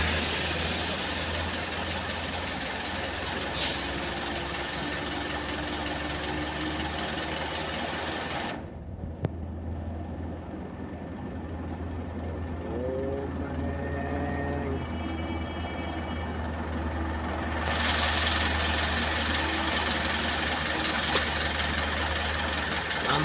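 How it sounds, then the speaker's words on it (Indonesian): A diesel truck engine, a Canter Super HDX or Fuso, labours up the Kedabuhan hill climb, a steady loud drone with a brief drop in the middle before revving back up. "Diesel sudah naik. Langsung digas."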